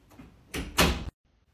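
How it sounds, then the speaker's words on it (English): A door swings shut in a single quick burst, a short rush of movement ending in a solid thud that cuts off abruptly into near silence. "Yes, and close the door!"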